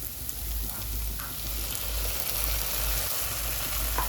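Tomato paste frying in a pan for fried rice gives a steady, fairly faint hiss with a low rumble beneath it, continuous and free of speech.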